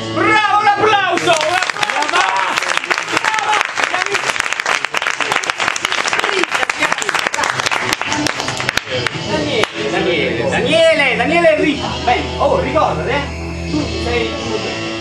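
Audience applause at a staged Romeo and Juliet performance, dense clapping running under lively talk and voices, then thinning toward the end.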